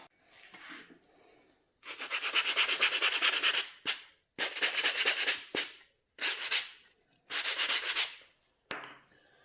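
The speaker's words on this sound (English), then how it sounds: "I just take some 80 grit sandpaper. Just a very quick sand just to remove that." Wood is sanded by hand with 80 grit sandpaper in loud, rapid rasping strokes, grouped into four long bursts separated by brief pauses, with no voices.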